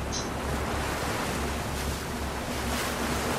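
Steady wash of ocean waves around a ship at sea in the Mare Deo horror game, a continuous rolling surf and wind-like noise at moderate level with no voices.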